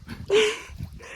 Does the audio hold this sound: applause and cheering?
no